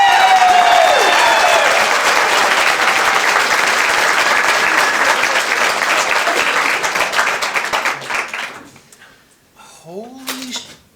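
A large summit audience breaks into loud, sustained applause that fills most of the stretch, then thins out and fades to scattered claps and whoops near the end.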